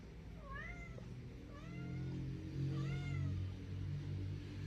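A household cat meows three times in a row, drawn-out rising and falling cries heard fairly close over a low background hum, with no one talking.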